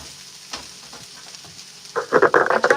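Fried rice with onions and black pepper stirred in a pan, soft scraping at first, then a louder burst of sizzling and frying near the end, close by with no talking.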